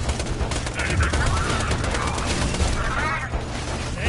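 Rapid SMG fire in the first-person shooter Borderlands 2, a steady stream of fast, crackling shots with chirping game effects mixed in, loud and continuous throughout.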